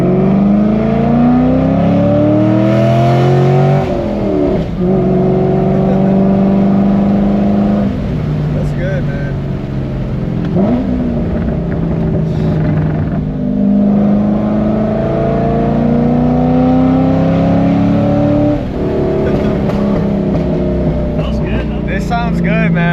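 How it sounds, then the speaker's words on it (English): A 2002 Chevrolet Corvette Z06 with its LS6 V8 and Corsa exhaust revs repeatedly, loud and close, the engine note rising and falling in long sweeps while people talk over it. "That Corsa exhaust sounds good."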